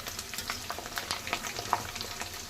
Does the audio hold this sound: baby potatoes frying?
yes